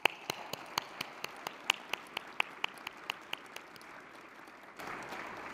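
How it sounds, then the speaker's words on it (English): Scattered clapping at a conference opening session, a string of sharp, evenly spaced single claps from a few hands that fades out, then a low murmuring room tone takes over. "please give a round of applause to our NGA team and our leader"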